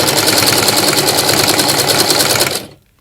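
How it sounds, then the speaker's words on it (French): A sewing machine runs steadily at speed stitching a straight seam with the centre needle, a loud, close, even mechanical whir with a fast rhythmic needle beat that stops abruptly near the end. "on va tout simplement coudre droit avec l'aiguille qui est au milieu"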